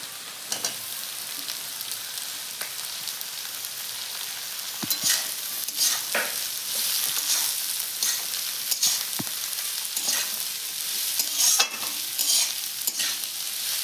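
Cabbage and onion frying in a pan with cauliflower and beans for egg vegetable chowmein, a steady close sizzle with repeated scraping stirs and a few sharper clinks.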